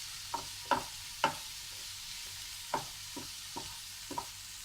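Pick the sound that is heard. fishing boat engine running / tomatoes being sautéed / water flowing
tomatoes being sautéed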